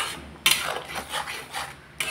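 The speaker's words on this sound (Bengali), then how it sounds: "এখন আমি মশলাটাকে ভালোভাবে কষিয়ে নেব।" A spoon scrapes and stirs a spice masala of turmeric and salt in a pan, producing a short series of close metallic scrapes and rubs without any talk.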